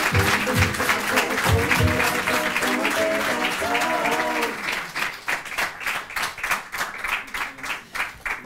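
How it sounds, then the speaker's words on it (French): Studio audience applauding the arrival of Charles Nemes on a French interview show; dense clapping with music underneath at first, thinning to a rhythmic unison clap toward the end, no talk. "Je vous demande d'applaudir Monsieur Charles Nemes"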